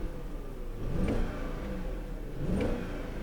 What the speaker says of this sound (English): you can hear the misfire there when you step on it